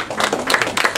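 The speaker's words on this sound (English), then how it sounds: "Let's give him a big round of applause." Brief scattered clapping from a small audience welcoming a speaker at an evening talk, uneven bursts of hands close by lasting about a second.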